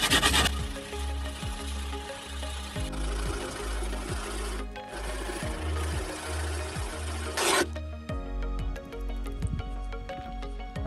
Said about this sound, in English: I will try a little bit with the sandpaper with 100 grit